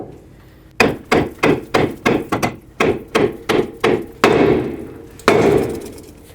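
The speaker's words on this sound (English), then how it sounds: "get a hammer right here and break the ball joint free from the control arm" A hammer strikes metal repeatedly to break an upper ball joint free from the control arm of a 2001-07 Toyota Sequoia, about a dozen sharp, loud blows in a fairly steady rhythm, with a couple of ringing hits near the end.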